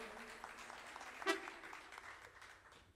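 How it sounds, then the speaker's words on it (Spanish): Audience applause at a live cumbia show, faint scattered clapping from a crowd with a brief sharp whistle or shout cutting through midway. "Fuerte el aplauso."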